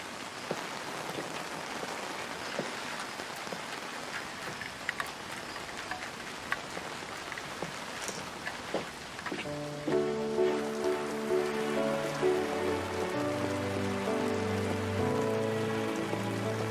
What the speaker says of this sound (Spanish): Otra vez esta lluvia tan fuerte.